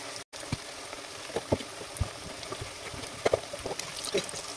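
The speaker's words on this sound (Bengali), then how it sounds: "তো চলুন আমি ভেজে নিই" Masoor lentil pakoras deep-frying in hot oil, a steady low sizzle with scattered crackling pops and small bubbling bursts, moderately close and fairly quiet, with no talking.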